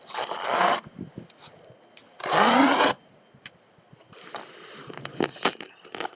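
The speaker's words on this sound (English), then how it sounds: "we want to score down the back of that line" A utility knife scores down the back of an artificial grass roll, giving two loud, rasping cutting strokes close up, then quieter scraping and shuffling handling noises.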